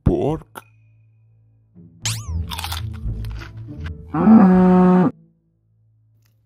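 Cows mooing in the Minecraft video game, a short harmonic low call near the end after scattered game sounds and crunching noises, loud and close.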